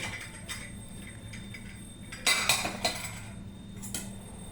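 A lid clanks onto a pot of simmering okra and tomato curry, giving a short cluster of metallic knocks and clinks over a quiet kitchen hum. No voices.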